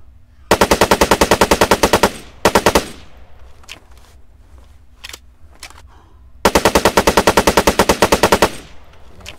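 Spar-17 rifle gunfire in the military shooter Arma 3 comes in two loud, rapid automatic bursts several seconds apart, with a few single shots and softer clicks between them.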